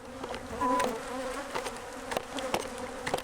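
A swarm of bees buzzes around a pest exterminator on a bee removal job, a steady close insect drone with wingbeats flicking past near and loud throughout.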